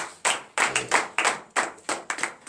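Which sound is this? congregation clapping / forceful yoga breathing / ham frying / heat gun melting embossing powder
congregation clapping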